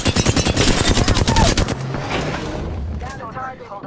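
Gunfire in Apex Legends on PS4 as a rapid, loud burst of automatic shots hammers out for about a second and a half, then trails into rumbling echoes and scattered fainter noises.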